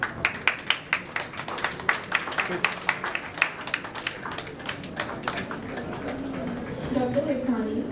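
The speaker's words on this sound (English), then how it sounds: "The applause should not stop, please." Audience applause, a run of sharp, distinct claps fairly close by that gradually soften into a looser patter, with voices rising underneath toward the end.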